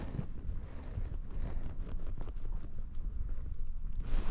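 Outdoor wind buffets the microphone beside the Oster river during a roach fishing trip, a steady low rumbling roar that continues without a break and swells near the end, with no talking.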